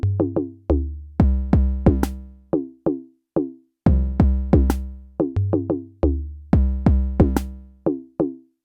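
A clean electronic drum loop from an Elektron Model:Cycles, with punchy kicks, tonal percussion hits and short plucked notes in a steady repeating pattern, close and dry.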